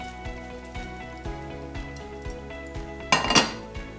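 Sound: pouring prepared filling onto torn yufka pastry sheets

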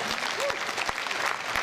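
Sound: applause at a carnival performance

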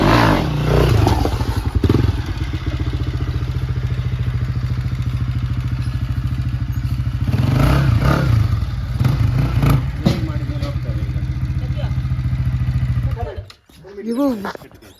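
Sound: motorcycles being loaded onto a vehicle

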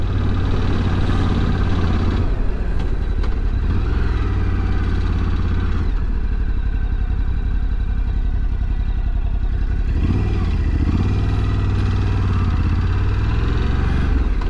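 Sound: Ducati Scrambler Sport Pro 1100 motorcycle riding

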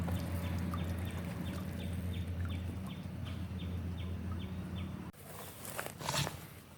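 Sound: ducks

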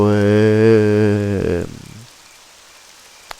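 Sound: rain in the video game Daemonica

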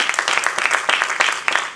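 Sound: congregation clapping hands in church

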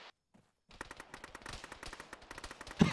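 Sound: gunfire in a military video game

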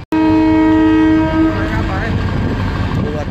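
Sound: train passing on the Karachi Circular Railway

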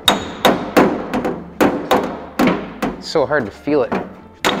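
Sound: hammer planishing sheet metal on a dolly

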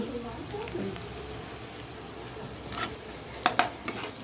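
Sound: onions frying with salt, stirred

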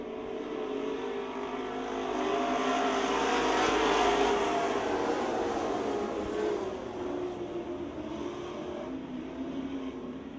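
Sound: race cars racing at Speedzone track

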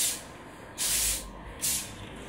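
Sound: hairspray being sprayed on hair

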